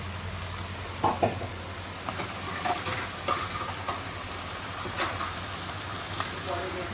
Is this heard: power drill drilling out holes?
no